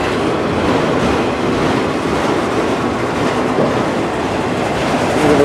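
Freight train rolling past close by, a continuous loud rumble and clatter of railcar wheels over the rails with no break.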